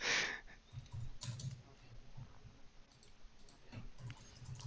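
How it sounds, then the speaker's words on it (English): Someone types quickly on a computer keyboard during an esports playoff broadcast, with clustered clicks and taps in an irregular rhythm over a quiet room background. "While he's typing"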